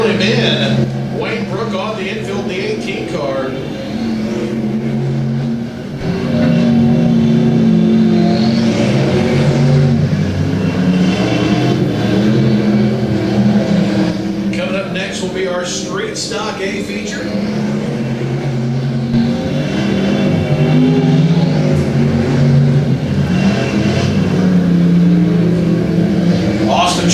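E-Mod dirt track race cars racing at Atchison County Raceway, with engines droning and revving continuously at a distance beneath steady commentary from an announcer.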